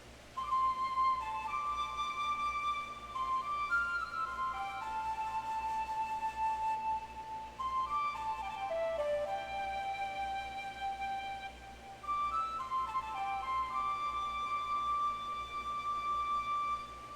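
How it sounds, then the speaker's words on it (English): Melodic flute playing in the Pokemon Legends: Arceus video game, a clear lilting tune of sustained, sliding notes over a soft steady background drone, continuous for about seventeen seconds with brief pauses between phrases. "why can't I play my flute like that? I do love the flute."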